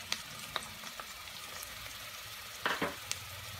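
Chopped onions sizzle steadily in hot oil with ginger garlic paste while chicken biryani is cooked, a soft continuous frying hiss broken by a few sharp clicks and spatters, with no talking.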